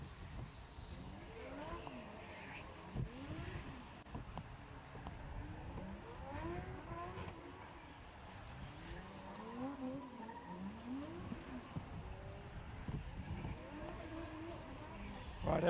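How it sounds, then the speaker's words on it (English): A Nissan S15 doing donuts on loose gravel at a race track, faint and distant engine revving in rising and falling sweeps with tire scrabble, a continuous wash of circuit noise around it. "He's going to do some donuts now, just try and shake that loose gravel out from underneath that S15"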